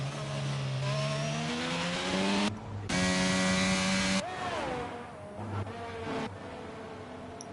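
An AlphaTauri race car pulls out of the pits in a racing game at a Saudi Arabia circuit, its engine whining upward through several quick gear changes, loud and close with no talk.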